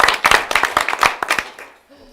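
Scattered audience clapping at a city council budget presentation, a brief burst of distinct hand claps from a small group that tapers off within about two seconds.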